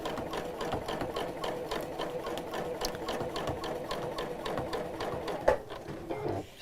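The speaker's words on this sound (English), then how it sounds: "I'm going to sew slowly and move quite quickly and just go around the edge of the heart" A sewing machine runs steadily, stitching around the edge of a fabric heart for trapunto quilting, its rapid even needle chatter close and continuous, with a brief click near the end.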